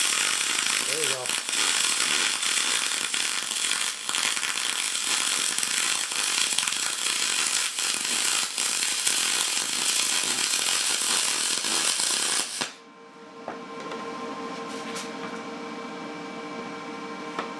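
Welding with a Lincoln Electric Magnum 100SG gun gives a steady, harsh crackling buzz for about twelve seconds, then stops abruptly, leaving quieter room noise.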